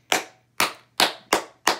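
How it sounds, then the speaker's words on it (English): Five sharp, evenly spaced hand claps in quick succession, each crisp and close with a short decay, alone over a faint low hum. "Clap that up right now."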